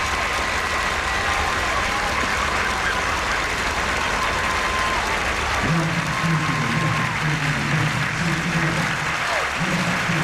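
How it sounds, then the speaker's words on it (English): A big crowd gives sustained applause at Singapore's 2003 National Day Parade, the 38th anniversary celebration, a steady wash of clapping heard at a distance, with sustained musical tones joining about halfway through. "a big applause from everybody"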